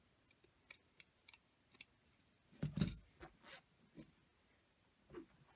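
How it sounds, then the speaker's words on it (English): Scissors snip through fabric while trimming a candy corn fabric banner, a string of quiet close cuts ending in one louder, longer snip, then a few more light clicks of the blades. "I'm going to trim away some of the bottom and then on an angle"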